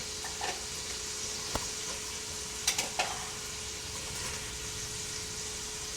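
Canned carrots tipped into a hot pan sizzle and fry in a steady, soft hiss, with a few sharp clinks and taps of a utensil against the pan.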